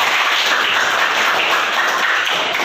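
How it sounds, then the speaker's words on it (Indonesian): Students in a junior high classroom break into a dense round of applause, steady and close, filling the room with continuous clapping and no talking. "Tepuk tangan dulu lah"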